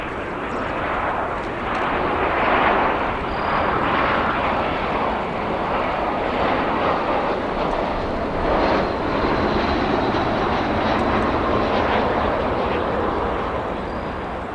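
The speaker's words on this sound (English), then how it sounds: "That arrival there, American Airlines Flight 2819, an Airbus A319-100." An American Airlines Airbus A319-100 arrives at O'Hare with a loud, sustained jet engine roar that swells slightly and stays steady throughout, with no voices.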